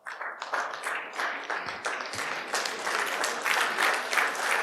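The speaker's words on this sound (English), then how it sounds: "I was expecting you to stand up and clap." Steady applause from an audience at an energy technology pitch event, many hands clapping in a full, continuous burst that swells slightly toward the end.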